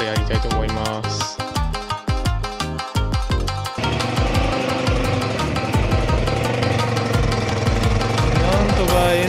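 A Yamaha Majesty 125 scooter engine cranks in uneven, sputtering bursts, then catches and settles into a loud, steady running rumble close by.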